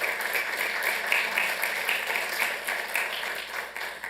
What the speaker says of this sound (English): please give a big round of applause to Mitzi Abassi